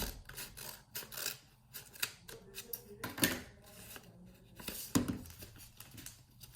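Scissors cutting open a homemade blind bag, giving faint, close snips and rustling paper or plastic, with two sharper cuts standing out near the middle and toward the end.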